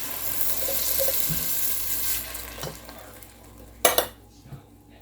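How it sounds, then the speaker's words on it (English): Onions caramelizing in a Dutch oven give a steady soft sizzle, and near the end a sharp metallic clatter of a utensil against the pot is followed by a quieter tap. "let the onions finish caramelizing"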